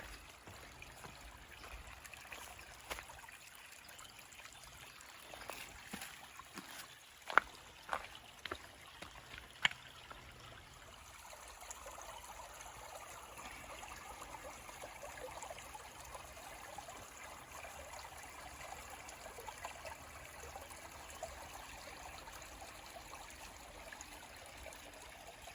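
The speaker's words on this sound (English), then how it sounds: "Came across this really nice little brook." A small brook flows on a mountain trail in the Great Smoky Mountains, a soft steady trickle of water running throughout, with a few sharp knocks and clicks early on.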